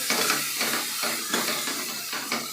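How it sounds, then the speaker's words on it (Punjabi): Ginger garlic paste fries with onions in a pan for a dhaba-style aloo matar sabji, giving a steady, close hiss and sizzle with soft stirring swells throughout. "ਅਦਰਕ ਲਸਣ ਦੇ ਪੇਸਟ ਨੂੰ ਵੀ ਆਪਾਂ ਚੰਗੀ ਤਰ੍ਹਾਂ ਭੁੰਨ ਲੂਗੇ ਪਿਆਜ਼ਾਂ ਨਾਲ"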